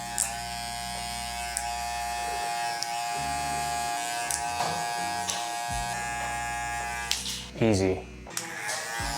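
An electric hair trimmer buzzes continuously up close while fading dense 4C hair, its motor pitch dipping and cutting out in pauses as it works, with someone speaking briefly over it.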